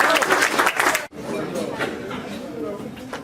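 Applause from an event audience, dense clapping for about a second that cuts off abruptly, followed by lighter scattered claps and murmuring chatter.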